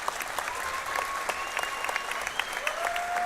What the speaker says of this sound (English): would like to give him a round of applause